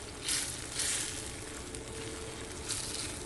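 Eggs for menemen are stirred as they fry in a pan, giving a soft, steady sizzle with faint crackling throughout. It is fairly quiet and close, with no talking.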